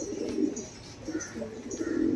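Rajasthani pigeons, descended from Rampuri stock, coo in soft repeated low murmurs, close by and steady over a faint background, with several overlapping calls and no talking.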